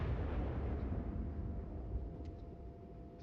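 The USS Iowa's main guns fire high explosive shells in World of Warships, a heavy rumbling blast that decays slowly into a deep, fading roar with no voices.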